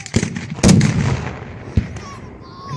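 Artillery cannon fire at a Civil War battle reenactment, the 2014 Battle of Aiken: loud booming blasts, one heavy report followed by a rolling rumble and a second, lighter shot, heard outdoors.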